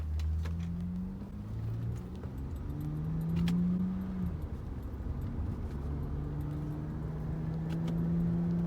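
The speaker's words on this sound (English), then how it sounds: "we'll be able to rev it up to 50 miles per hour into 4th gear in like a few seconds" A manual car accelerating away from a red light and shifting up toward fourth gear, the engine note climbing in pitch, dropping at each change and rising again, with a faint jingle of keys inside the cabin.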